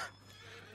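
A horse whinnies in Red Dead Online, a short, fairly faint neigh that fades quickly over a steady low hum of game background.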